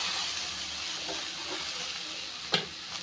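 Drumstick leaves with coconut sautéing in a pan, a steady soft sizzle and hiss with a sharp clink of a utensil near the end, close and fairly quiet.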